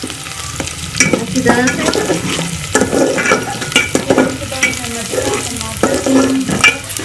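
Onions frying in a pan for jeera pulao, a steady sizzle with repeated stirring scrapes throughout, close and fairly loud, while someone speaks briefly over it.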